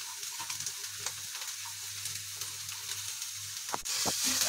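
Green chillies sizzling with browned onions in a pan, a steady close frying hiss with faint stirring scrapes and a couple of sharper clicks near the end.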